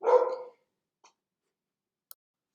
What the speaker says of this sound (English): The dog's seen somebody walking outside.